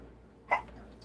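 A person gives a single sudden sneeze, one short, close burst rising above a quiet indoor background.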